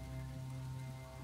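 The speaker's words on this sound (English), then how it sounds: "At least get out of the rain." Steady rain falls as a soft, constant patter over a low background hum in a tabletop fantasy game session, faint and uninterrupted without voices.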